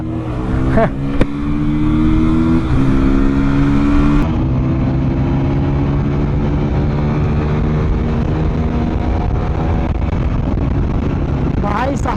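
Engines of a 2025 TVS Apache RTR 160 4V and a 2025 KTM Duke 160 revving and droning in a drag race, with rising pitch sweeps, a gear-shift break, and a sustained loud buzz close by.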